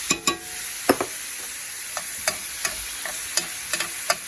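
Hamburger meat sautés in a skillet for goulash, a constant sizzle punctuated by scattered knocks and scrapes of a utensil against the pan, near and fairly loud.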